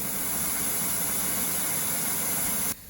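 Rapid buzzing crackle of spark plugs firing in a pressurized spark plug tester set to 100 PSI during C-47 aircraft maintenance, steady and loud with a high whine, cutting off abruptly near the end.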